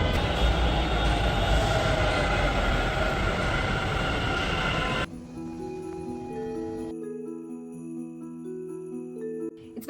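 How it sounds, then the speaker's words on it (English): A metro train pulls into a station with a loud rumbling roar for several seconds, then the noise drops away into a ringing electronic chime sequence of tones on the platform. "My metro is also here, so I'll get going."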